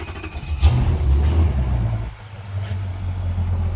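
A Mercury boat engine with an overheating fault turns over and catches, then settles into a steady low rumbling idle, close and fairly loud.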